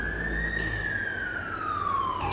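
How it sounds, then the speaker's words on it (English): An emergency siren from a nearby hospital wails in one long, slow sweep that rises then falls, loud and steady throughout, with no talking. "there's a hospital close by, which explains the siren"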